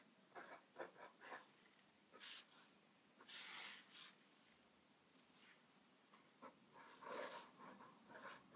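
A Sheaffer calligraphy fountain pen with a 1.5 mm nib writes in faint, close, scratchy strokes that come in short bursts separated by brief pauses.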